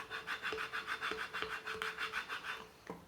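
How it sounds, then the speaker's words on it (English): A stencil is burnished onto glass with steady back-and-forth rubbing strokes, about a dozen quick, even scrapes close up, with a few light taps between them and no voices. "Just going to burnish that down real good"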